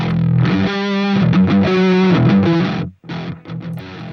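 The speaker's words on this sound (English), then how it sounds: "we can actually push the amp a little bit more and do less gain by turning up the master, and we'll get a different distortion quality" An 8-string guitar plays through an amp with the master turned up and the gain lowered. Loud, distorted chords ring out and sustain, then break off briefly before a few more chopped chords.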